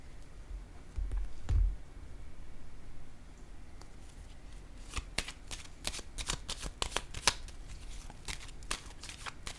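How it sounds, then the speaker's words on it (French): Playing cards are laid down with a soft slap, then riffled and shuffled in quick crisp bursts of flicking and snapping that run on for several seconds, close and fairly quiet. "Je vais déposer une carte ici."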